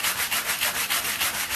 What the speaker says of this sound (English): I'm going to rough it up here with my sandpaper a little bit.